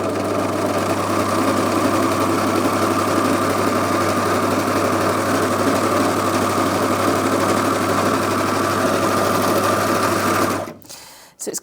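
A Brother Airflow 3000 overlocker stitching through thick 10-ounce denim runs at a loud, steady, close-up hum with rapid mechanical chatter, carrying on for about ten seconds before winding down and stopping.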